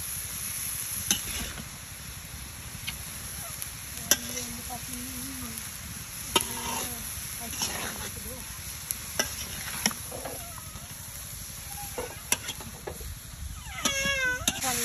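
Cabbage and shrimp fry in a pan, giving a steady crackling sizzle punctuated by repeated spatula scrapes and taps. Faint voices and what sounds like a cat's meow come through near the end.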